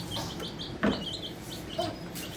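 Backyard chickens, French Marans, Ameraucanas and Olive Eggers, cluck softly in a coop with a couple of sharper squawks over a quiet background.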